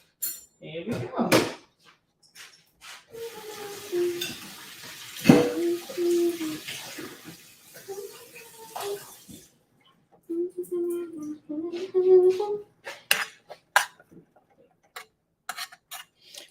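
Dishes and cutlery rummaged in a dishwasher: scattered clinks, clatters and sharp knocks of plates and utensils at close range, with a low voice murmuring intermittently between the handling noises.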